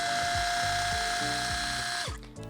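Small electric motors of a Sejoy 3D rotary shaver run with a steady high whine and a faint rhythmic ticking pulse underneath, then wind down toward the end, with no talking.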